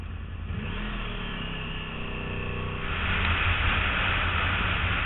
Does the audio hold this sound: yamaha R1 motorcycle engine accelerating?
yes